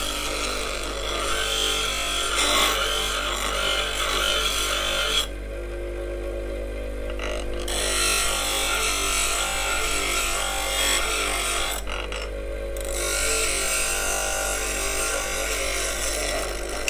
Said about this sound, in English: It's my coarse carborundum wheel anyway. And that's literally just holding the tool flat on the rest and getting at it.